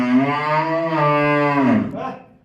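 A single long, loud cow moo close by, low and resonant, trailing off at the end.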